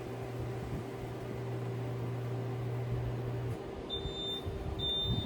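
A Robinair R1234YF A/C service machine's vacuum pump drones steadily with a low mechanical hum; the tone drops away partway through and a few sharp electronic beeps follow.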